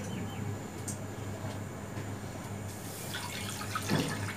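About a cup of water pours steadily into a pot on the stove for boiling whole olives, giving a continuous even splashing rush with no talk.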